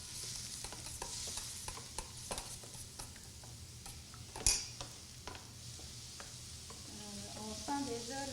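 Onion fries with a soft, steady sizzle in a pan while a utensil stirs it, scraping and tapping in irregular strokes with a sharper clink midway, and voices speak briefly near the end.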